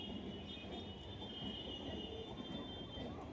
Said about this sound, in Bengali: আমাদের ট্রেন আসছে 1 নম্বরে